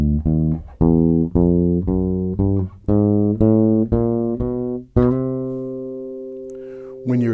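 A chromatic scale played on bass guitar, about a dozen separate plucked notes stepping along one after another, each ringing briefly, with the last note left to sustain and fade, alone without talk.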